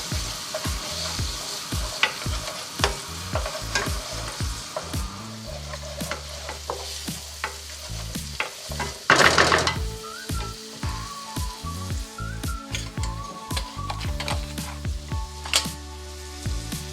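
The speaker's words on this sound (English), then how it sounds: "So when the butter is melted, you basically want to put the onions in. Give that a good old stir." Onions frying in melted butter for a dhaba-style paneer masala, with a steady close sizzle and repeated scraping stirs of a spoon against the pan, one burst of louder sputtering midway, no voices.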